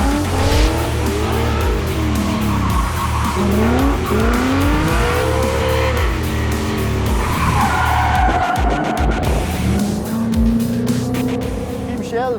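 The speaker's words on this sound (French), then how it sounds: "s'amuse à brûler des pneus" A Ford Mustang burns its tires on a misty race track, with loud sustained tire squeal and skidding over a revving engine, rising and falling pitch sweeps throughout, and voices talking underneath.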